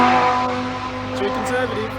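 Race car in qualifying for the Bathurst 12 Hour, a loud, close engine note sweeping past with a steady tone, under excited voices talking.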